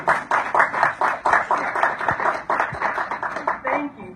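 Audience applause for the book contributors at a women and girls empowerment reception in a hotel, steady rhythmic clapping from a modest crowd with voices talking over it.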